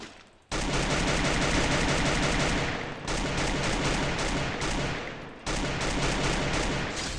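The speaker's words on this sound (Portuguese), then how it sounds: "Nossa, essa Scar dá muito tiro aleatório, pessoal." Rapid bursts of SCAR assault rifle fire in the battle royale game Free Fire, loud and sustained automatic shooting with brief breaks near the 3- and 5-second marks, no voices over it.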